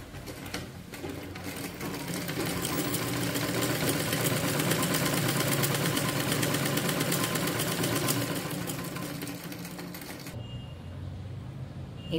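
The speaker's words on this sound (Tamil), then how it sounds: "இப்போ நம்ம ரெண்டு ஹேண்டிலும் நம்ம ஸ்டிச் பண்ணி முடிச்சிட்டோம்." A sewing machine stitches the handles of a cloth handbag, a rapid continuous mechanical chatter that builds, runs steadily and loud for several seconds, then cuts off sharply near the end, leaving faint room noise.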